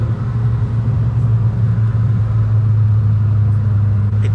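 Honda Civic Si pulling along a quiet rural road, a steady close engine drone with a strong low hum and constant road rumble, no voices.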